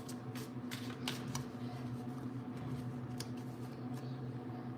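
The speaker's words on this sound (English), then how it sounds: "I should mute it when I start shuffling." A deck of playing cards is shuffled, giving quick papery riffles and snapping bursts in short irregular clusters over a steady low electrical hum, fairly quiet and with no talking.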